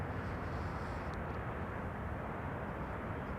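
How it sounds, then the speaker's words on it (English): Steady, distant jet engine roar from aircraft queuing for departure on the center runway at Amsterdam Schiphol Airport, a continuous broadband rush with no clear change in pitch or level throughout. "It's queuing up for departure on the center runway."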